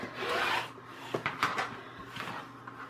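Rotary cutter slicing paper strips on a rotary cutting mat during a decoupage craft, heard as a few close, short rasping cuts with soft rubbing between them.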